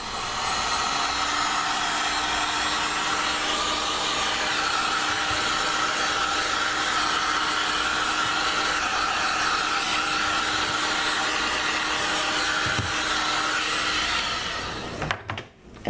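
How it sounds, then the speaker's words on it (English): A heat gun blows a steady, loud, constant airflow roar while sealing plastic wrap around homemade soap, continuing almost unbroken before cutting off abruptly at the end. "And this works faster because it's a heat gun"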